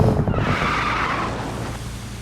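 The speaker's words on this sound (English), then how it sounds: "I reached a decent 60 miles per hour before having to brake to avoid a crash" Tires squeal and skid as a car brakes hard to avoid a crash in the BeamNG Drive driving game, a loud continuous screech with engine noise underneath, fading slightly over two seconds.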